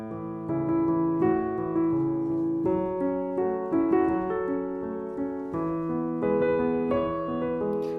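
Solo piano plays a steady sequence of chords from a song, each new chord struck with a firmer accent on its first beat, sustained and ringing throughout with the pedal.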